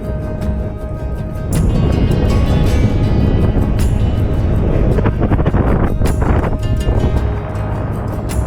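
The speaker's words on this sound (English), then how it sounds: "So windy now." Strong hilltop wind buffets the microphone on an exposed stretch of Scotland's NC500 with the surrounding mountains in view, a loud continuous roar that surges and dips in gusts, no speech.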